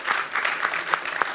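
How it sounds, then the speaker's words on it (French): An audience applauds at a business funding event, a steady burst of clapping from a crowd that is near and fairly loud, heard alone. "Donc on peut les applaudir quand même,"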